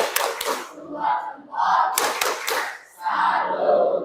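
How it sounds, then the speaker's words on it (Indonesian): A school class in a science lesson performs a rhythmic 'tepuk salut' clapping routine, with short bursts of group claps alternating with chanted voices in a patterned call. "1 kali tepuk salut."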